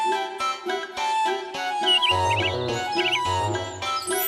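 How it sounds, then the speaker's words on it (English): A nightingale sings a rich, varied song of clear repeated whistled notes and rapid trills, close and steady. "Nightingale,"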